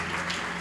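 A church congregation at a Sunday celebration service applauds, a brief, dense wash of clapping from many hands in a reverberant room, steady throughout.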